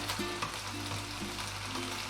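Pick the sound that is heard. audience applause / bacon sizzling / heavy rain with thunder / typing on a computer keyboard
bacon sizzling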